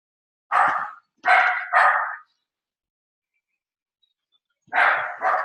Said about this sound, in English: we've had precious doggies barking and interrupting us